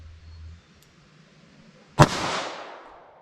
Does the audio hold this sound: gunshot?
yes